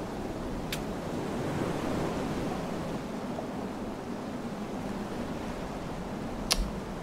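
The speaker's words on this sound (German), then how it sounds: "heftigen Wind" Strong wind in the video game Far: Changing Tides blows as a steady, even broadband rush across the whole stretch, broken by two brief sharp clicks, with no voices.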